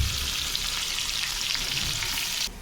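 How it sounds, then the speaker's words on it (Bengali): Dried red chillies and garlic fry for a pickle in a steady, close hiss of hot oil that holds evenly, then drops off abruptly at the very end. "তোমরা দেখতে পাচ্ছ আমি এটাকে ভেজে নিচ্ছি"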